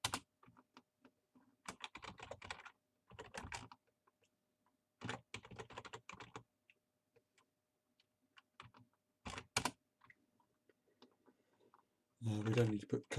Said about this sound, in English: And I'm going to type in customer